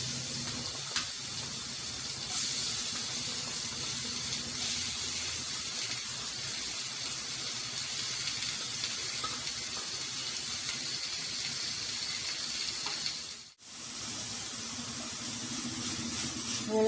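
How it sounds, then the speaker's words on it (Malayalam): Chopped onions and spice masala sauté in a pan for curry leaves chicken masala, giving a steady, soft sizzling hiss that runs throughout, briefly cut off near the end. "അങ്ങനെ സവാളയും ഈ മസാലയും എല്ലാം കൂടെ ഒന്ന് വഴറ്റണം"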